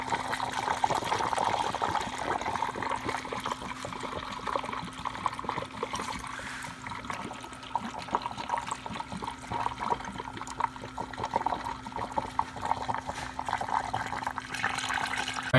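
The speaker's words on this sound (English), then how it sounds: "We'll go ahead and refill the system with coolant and then check for leaks." Coolant pours steadily into the cooling system of a first-generation Cummins engine, a continuous close trickle and splash of liquid running without a break and with no talking.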